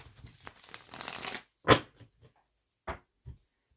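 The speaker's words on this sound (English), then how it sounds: "One more shuffle, Aquarius." Tarot cards being shuffled in a brisk riffle, followed by a few sharp slaps and taps as the deck settles, close and fairly quiet.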